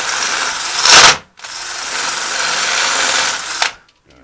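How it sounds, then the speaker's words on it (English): A power drill bores into a rear brake part on a Ford F-150, a brief burst followed by a loud, steady grinding whir of about two seconds that stops abruptly, with a short rattle at the end. "So, you take this drill"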